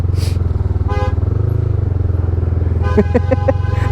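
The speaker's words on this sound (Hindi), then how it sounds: "हॉर्न दे पड़े हैं, हॉर्न दे पड़े हैं" Several short horn toots sound near the end, a quick burst of honks over a steady low engine rumble, with an earlier single toot.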